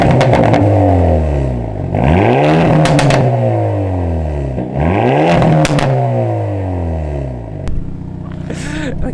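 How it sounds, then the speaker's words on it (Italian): A stock Hyundai car revs hard with its exhaust valves opened by a steering-wheel button, loud and close, with repeated rising and falling revs and a few sharp crackles, then idling near the end. "È pazzesco che Hyundai sia riuscita a fare una macchina di stock, di base, con questo scarico."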